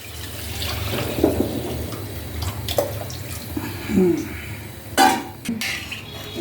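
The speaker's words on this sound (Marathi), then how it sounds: "आता हे पाणी याच्यामध्ये ओतायचं" Water splashes and trickles into a metal pot of Maharashtrian chicken curry amid clinking of utensils, with a brief louder pour near the end and light kitchen clatter throughout.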